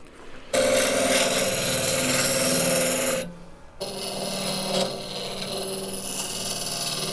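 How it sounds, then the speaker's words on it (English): A power drill whirs steadily, boring a hole into the wooden base of a magician's ball and vase prop, pauses briefly, then starts again and keeps grinding at a close, fairly loud level. "We're going to drill another depth hole, back hollow of the base."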